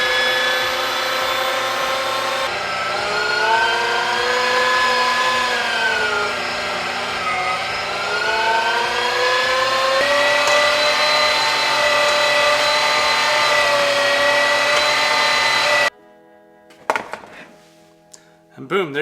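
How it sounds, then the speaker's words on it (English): An electric meat grinder whines continuously as wild duck fat and meat are pushed through, a steady motor drone with pitch dips under load, then cutting off abruptly near the end with brief clatter. "You just pop the meat through there and grind it up"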